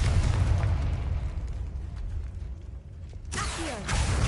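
Confringo fire spell blast cast in the Hogwarts Legacy video game, a loud rumbling burst with crackling debris, easing off and then flaring again with a sharp explosive crack near the end.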